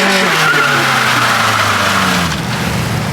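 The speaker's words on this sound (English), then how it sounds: "I think it did a better burnout in reverse than it did forward" Honda Civic EG hatchback doing a reverse burnout, tires squealing loudly over a revving engine for about three seconds, the engine note sliding up and down before easing off near the end.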